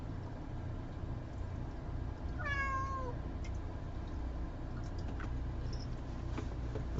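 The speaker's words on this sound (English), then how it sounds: "My cat's wilding out right now." A house cat that is acting up gives one clear, drawn-out meow partway through, over a low background rumble, with a few faint taps and clicks after it.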